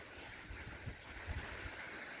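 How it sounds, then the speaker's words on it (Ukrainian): Low, rumbling wind buffets the microphone in uneven gusts near a stork's nest, steady and fairly quiet, with no voices. "Дивіться, який у нас вітер зірвався. Зірвався страшний вітер."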